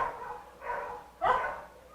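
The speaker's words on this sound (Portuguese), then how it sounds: "esses cachorros vão atrapalhar a mensagem, rapaz" Dogs barking near a public church service, two or three fairly loud bursts separated by short gaps, heard alone without talk.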